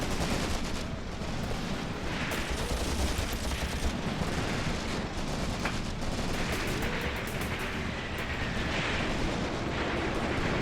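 Continuous battlefield gunfire in the WWII tactical war game Graviteam Tactics, with dense overlapping shots and bursts like a steady fusillade, loud and sustained throughout.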